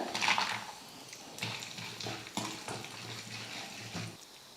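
Cashews fry with cumin and pepper in a pan, giving a soft low sizzle broken by several quiet stirring scrapes and clinks at an uneven pace.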